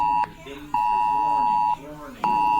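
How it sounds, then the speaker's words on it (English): A tornado warning emergency alert sounding on a phone, a loud, steady electronic tone that cuts out twice and resumes, with a person talking over it. "Tornado warning on my phone."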